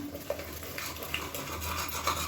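Ginger garlic paste sautéing in a cooker over a medium flame, giving a steady soft scraping and sizzling with a few light stirring scrapes, close and fairly quiet, no talking.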